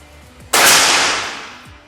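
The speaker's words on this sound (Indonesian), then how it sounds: "tembakan yang pertama" A single air rifle shot fired with a Barakuda Match pellet at a shooting range, a sharp loud crack with a hiss that decays over about a second and a half, alone after a short quiet lead-in.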